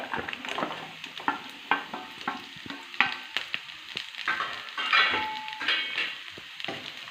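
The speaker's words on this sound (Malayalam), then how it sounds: "ഉള്ളിയൊക്കെ ഒരുപാട് വേകുന്ന വരെ നമുക്കിത് ഇളക്കി വഴറ്റിയെടുക്കാം" Slit shallots and coconut sautéing in oil in a pan, a continuous crackling sizzle broken by repeated scraping strokes of a spoon stirring, close and moderately loud, with no talking.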